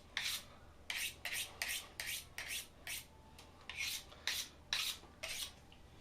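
A well-worn boning knife is sharpened before boning out a fresh ham, about a dozen crisp rasping strokes in a steady rhythm, close and fairly quiet, with no talking.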